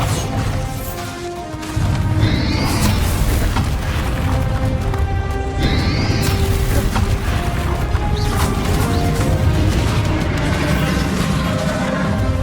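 A Bombarda explosion spell goes off in the video game Hogwarts Legacy, loud crashing blasts and smashing impacts within a dense, continuous din of battle and magical effects.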